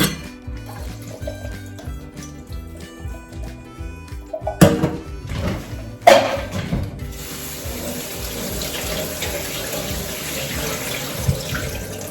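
Water runs and splashes as corn is drained through a strainer in a home kitchen, with clattering bumps of the strainer against the sink and a steady trickle afterward.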